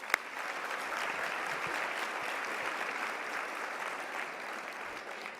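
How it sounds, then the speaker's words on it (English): Sustained applause from a large crowd at the 2023 Arkansas Women's Hall of Fame induction ceremony, steady clapping throughout with no one speaking. "Let's give all of our historical, group, and contemporary inductees another round of applause."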